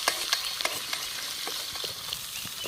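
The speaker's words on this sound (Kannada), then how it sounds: "ನೀರುಳ್ಳಿ ಸ್ವಲ್ಪ ಫ್ರೈ ಆಪಲವರಿಗೆ ಹೊರ್ಕೊಂಡು" Chopped onion and peanuts sizzle in hot oil as a spoon stirs them, a steady close frying hiss broken by quick scraping clicks against the pan.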